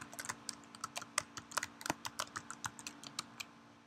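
Login ID and password typed on a computer keyboard: a steady run of about twenty quick, crisp key clicks, close and clear, with no talking.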